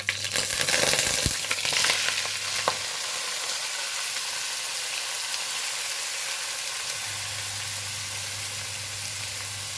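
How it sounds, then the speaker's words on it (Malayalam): Crushed onions are dropped into hot oil after mustard seeds have popped. A loud, bright sizzle starts with clattering as they go in, then settles into an even, continuous frying hiss. "കടുക് പൊട്ടിക്കഴിഞ്ഞു ഇനി ചതച്ച ഉള്ളിയാണ് ഇട്ട് കൊടുക്കുന്നത്"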